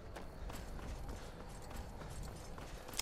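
Horse hooves in Skyrim clattering in a quick running rhythm, fairly faint and steady over a few seconds as the horse gallops off.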